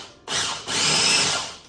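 A blender whirring a barbecue glaze for pork tenderloin, loud and close, starting in a short burst, pausing briefly, then running steadily again before winding down.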